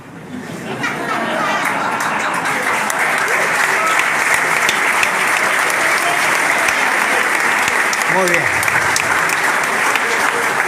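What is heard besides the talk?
audience applause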